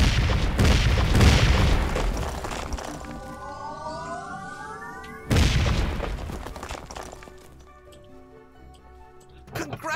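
An enemy tower collapses in the video game Skyworld with a loud booming explosion, followed by rising whistling tones and a second blast a few seconds later, then a faint third hit near the end.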